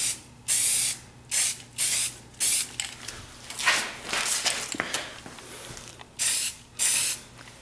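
Spray paint hisses onto a gun and its magazine in repeated short bursts, close and loud, with brief pauses between, plus a stretch of softer, uneven spraying in the middle and no talking.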